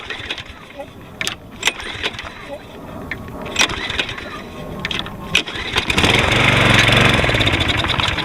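Cold start of a Toro Recycler lawn mower, model 20333, with a 7.0 gross torque Briggs & Stratton engine: a few pull-cord clatters, then the engine catches and runs steadily and loud near the end.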